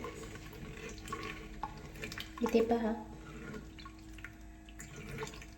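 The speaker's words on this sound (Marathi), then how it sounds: "त्याच्यामध्ये हे पुन्हा पाणी घालून आपल्याला स्वच्छ धुवून घ्यायचे आहेत" Crab pieces for a Marathi crab curry are rinsed with water in a vessel, with splashing and sloshing that swells briefly midway. Someone talks over it.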